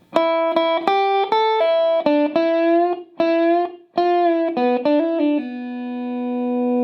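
Electric guitar plays line three of a song's solo, with hammer-ons and pull-offs to an open string: a close, clean run of quick picked notes with brief gaps, ending on a long sustained ringing note.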